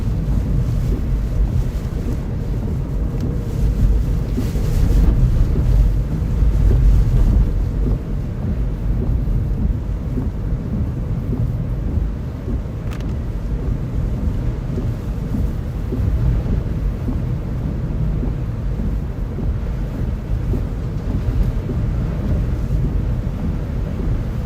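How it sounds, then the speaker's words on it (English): A typhoon squall in Okinawa, Japan, brings heavy rain and gusty wind as a continuous loud roar of rushing wind and pouring rain, with gusts swelling and buffeting the microphone, no voices. "heavy rain and a few gusty winds with this one."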